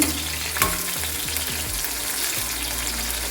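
Homegrown brinjal pieces fry in oil on a low flame, a steady close sizzle with a few scraping stirs in the first half, no voices over it.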